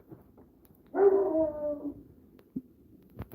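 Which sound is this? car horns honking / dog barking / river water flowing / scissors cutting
dog barking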